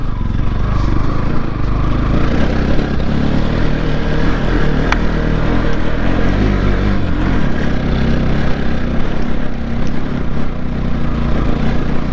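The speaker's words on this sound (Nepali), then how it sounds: "स्कुटर त गइरहेछ यार स्कुटर" A scooter rides along a dangerous mountain road, its engine droning loud and continuous with heavy low rumble and wind buffeting throughout, close to the microphone.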